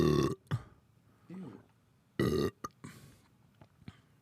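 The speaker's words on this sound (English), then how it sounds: "And mouth noises. That's it. Like this." Mouth noises picked up close by a streaming microphone: a few loud burp-like throaty bursts separated by quiet gaps, with small clicks and breaths between them.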